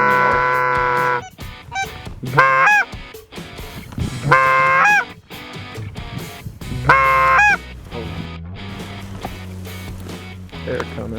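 Canada geese honking during an early-season goose hunt in Saskatchewan, loud repeated calls arriving in several bursts close overhead, with quieter stretches between and people talking.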